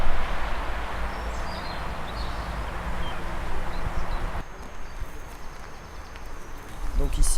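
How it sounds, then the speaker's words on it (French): Steady roadside ambience of broadband rumble and hiss, with faint birdsong drifting above and a noticeable shift in tone about halfway through. "Prise de son de la route."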